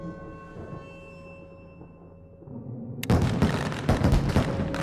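In Fallout: New Vegas, fireworks burst above a casino after a humming, droning build-up, setting off a dense volley of loud crackling explosions and booms that continue to the end.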